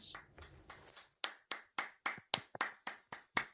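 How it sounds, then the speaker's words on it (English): A small group gives a light, slow round of golf claps, about ten sharp separate claps in a steady rhythm, close and fairly quiet, with a few softer scattered claps and faint rustling at the start. "Golf claps around."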